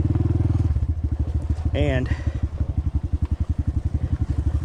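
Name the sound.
Honda CT125 motorcycle engine, riding slowly downhill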